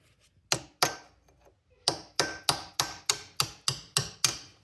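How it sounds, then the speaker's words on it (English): A hammer drives a chisel against the C-clip on the front axle U-joint of a Dodge Ram 2500/3500 truck: two sharp metallic strikes, a pause, then eight evenly spaced ringing blows, close and loud. "with your chisel, you're going to want to contact the end of that C-clip"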